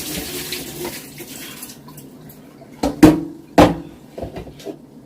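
Cold tap water runs over raw turkey wings in a kitchen sink, a soft steady splash under a few sharper bursts of water and clatter near the middle, with no talking.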